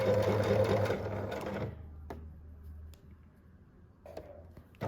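A sewing machine runs loud and steady while stitching a V neckline, then drops to a lower hum and quiet pauses, with a few faint clicks and a brief resumption near the end.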